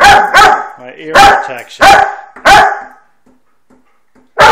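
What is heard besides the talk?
dog barking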